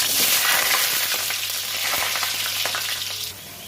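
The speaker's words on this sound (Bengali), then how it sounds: "সরষের তেল, একটা আলু ভেজে নেব।" A potato fries in hot mustard oil, a loud, close, continuous sizzle with bright crackling that dips slightly near the end, with no talking.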